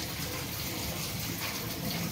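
Water gushes from a tap in a steady, close rush that stays even and unbroken for a couple of seconds, with no talking.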